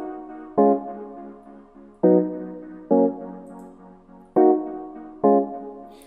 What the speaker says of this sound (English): So I'm using a sound synth key from Purity.